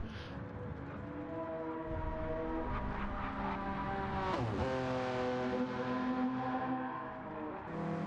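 A GTO-class race car engine holds a steady high-pitched drone on a timed lap around a racetrack, pitch climbing and dropping through shifts and corners, loud and continuous with no talk.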